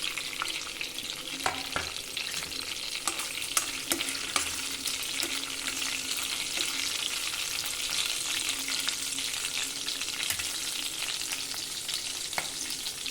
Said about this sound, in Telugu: బటర్ మెల్ట్ అయ్యాక ఆల్రెడీ నేను చూపించాను కదా, సాజీరా, చెక్క ఇవన్నీ మసాలా కూడా వేసేసుకుంటున్నాను.